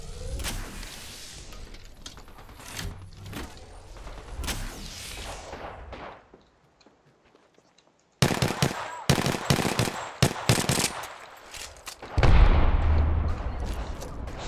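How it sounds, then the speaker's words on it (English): Rapid automatic gunfire in Apex Legends crackles in close, loud bursts, with a brief near-silent pause midway before the shooting resumes even heavier. "Listen up, I'm getting shot."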